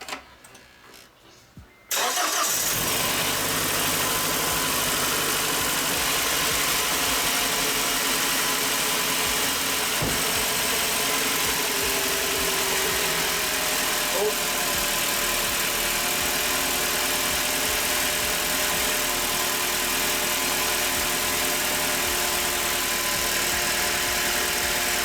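A car engine cranks and fires after a short quiet moment, then settles into a steady, continuous idle that runs on with a low rumble.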